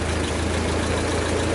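A 1952 Ford 8N tractor engine runs in gear with a steady, close, low, thrumming drone that holds evenly throughout and has no talk over it.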